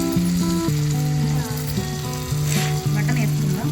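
Mutton goes into a hot pan with drumsticks and sizzles loudly and steadily, a close constant hiss under a tonal musical background.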